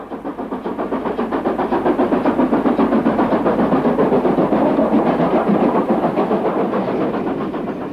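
British Railways Standard Class 5 steam locomotive working hard up a steep bank, a dense, steady chuffing roar with rapid rhythmic beats and rail clatter, loud and close throughout with no voices.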